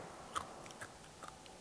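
Crispy oven-baked dried anchovies are bitten and chewed up close, producing a few sharp, quiet crunches spaced irregularly over a soft, near-silent background.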